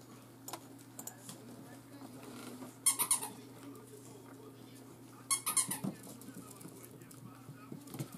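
Two quick bursts of squeaking from the squeaker in a soft plush dog toy, each a rapid cluster of squeezes, close by, with light clicks and handling noise between.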